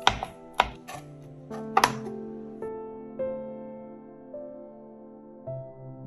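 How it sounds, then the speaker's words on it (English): A knife chopping dried shrimps on a board, several sharp knocks in small bursts with ringing pauses between them, close and fairly quiet. "Chop up the dried shrimps roughly."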